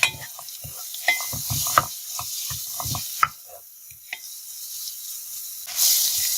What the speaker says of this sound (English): let it to fry well